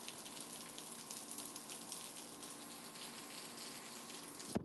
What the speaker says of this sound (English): it's out here raining right now